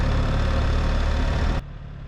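A BMW R1300GS motorcycle engine hums steadily while riding, a low, dense drone at close range that drops abruptly in level near the end, with no voices.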